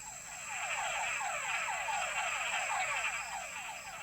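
Recorded breeding chorus of male mud puddle frogs played back at a pond, a fast, regular series of chirping calls repeating steadily over a faint high whine.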